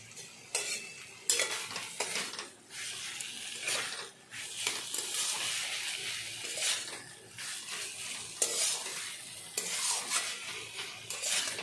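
A banana flower curry is stirred in a pan with repeated scraping and clinking strokes of a spoon against the metal, some bursts louder than others, over a light sizzle and with no talking.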